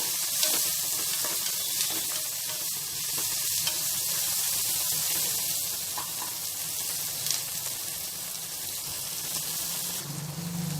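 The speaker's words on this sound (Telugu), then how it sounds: "ఈ ఉల్లిపాయను కూడా మనము కొద్దిసేపు ఫ్రై చేసేసుకున్నాము" Chopped onions fry in hot oil with a continuous, dense sizzle and hiss, close and steady, with occasional stirring scrapes and a brief burst of louder spitting near the end.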